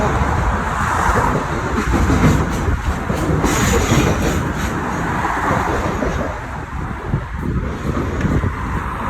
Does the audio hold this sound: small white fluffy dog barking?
no